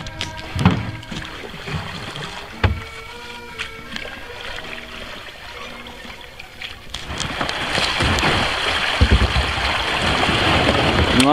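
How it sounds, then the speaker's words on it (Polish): Water rushes over a small waterfall on the narrow Rakówka river near Cekcyn in winter, with splashing and knocks from kayaks being hauled across, the flow growing louder and steadier toward the end. "ciężka przeprawa przez ten wodospad"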